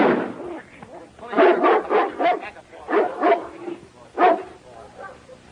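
Dog in an old 1937 Western barking and yapping close by, a series of loud, rough barks in clusters with short gaps, mixed with whiny yips.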